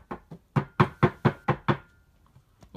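A door is knocked on with two light taps, then six firm knocks in an even rhythm, close and clear, trailing off into a few faint taps.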